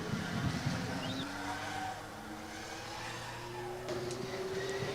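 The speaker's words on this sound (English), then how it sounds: "we can see car number 26 rolling up to the starting line" A driverless Formula Student electric race car creeps slowly toward the start line at a skid pad event, its motor giving a thin rising whine over steady outdoor crowd and ambient noise, no clear voices.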